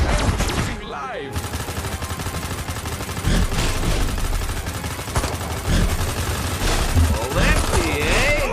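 Gunfire in the video game Destroy All Humans! 2 Reprobed is loud and continuous, mixed with game music, effects and character voices throughout.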